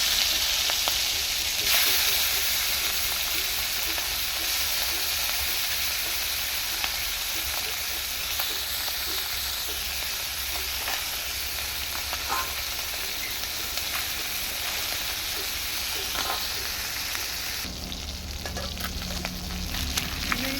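Tengra fish fry and get stirred in an oil-filled pan for a Bengali thin curry, giving a loud, steady sizzle with occasional scraping stirs throughout.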